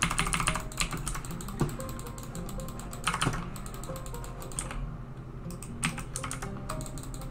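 Computer keyboard and mouse clicked during a Dota 2 match: rapid, close, irregular bursts of key taps and clicks, with brief pauses between flurries and no voices.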